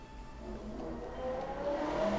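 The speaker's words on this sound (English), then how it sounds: "That was a very loud motorbike going around on the road nearby." A loud motorbike revs as it passes on a nearby road, its engine rising in pitch over about two seconds and growing steadily louder, heard alone with no talk.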